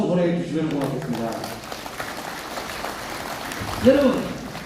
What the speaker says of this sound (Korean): 다시 한번 큰 박수 보내주시면 고맙겠습니다.